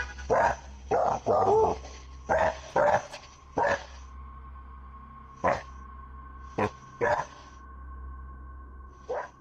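Several sharp dog barks come in irregular bursts, some close together, over a steady low hum with a faint continuous tone in the background.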